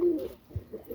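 A Rajshahi pigeon coos softly and close by in a couple of short, low, throaty coos, with brief pauses between them in a quiet setting.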